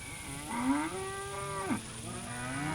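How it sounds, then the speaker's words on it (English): A single cow moos in a ranch pasture holding heifer pairs and replacement heifers, a long low drawn-out call rising and sliding down, heard clearly over faint outdoor background. "We have about 150 heifer pairs in here, and then our replacement heifers are in here also."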